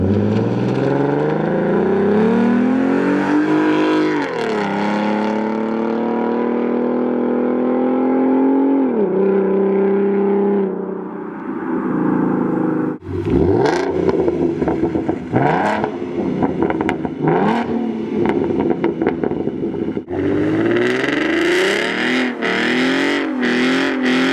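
A deep Mustang 3.7L V6 aftermarket exhaust idles, then revs up and down repeatedly in loud surging bursts, close by, with sharp crackling pops between revs.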